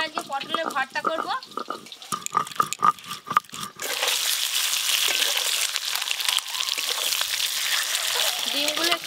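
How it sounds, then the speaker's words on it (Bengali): Eggs frying in oil in a pan, a steady crackling sizzle that rises after a stretch of clinking and stirring, fairly close and continuous. "ডিমগুলো একটু লাল লাল করে ভাজবো।"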